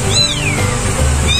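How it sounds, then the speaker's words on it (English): Young kittens meow loudly and close up, with high, wavering cries that rise and fall. One call opens the clip and another starts near the end. "You guys can hear that the other kittens are so noisy."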